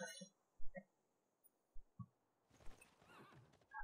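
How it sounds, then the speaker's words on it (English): Horses in the strategy game Civilization 6 give short whinnies and snorts with scattered hoof clops, quiet and sparse, followed by a rustling burst of hoofbeats and movement. "And there's the horses that we were talking about."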